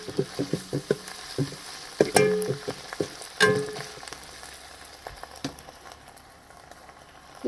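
Garlic paste and ginger paste hitting a hot pan for Mysore-style white chicken pulav, giving sharp sizzles and spatters with a few scraping stirs, loud bursts early that settle into a softer, steady frying hiss.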